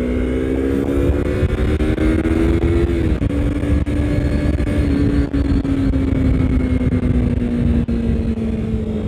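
A 2017 Yamaha MT-25 motorcycle engine revs and accelerates up through the rpm range in a loud, close, continuous drone, its pitch climbing and easing across gear changes.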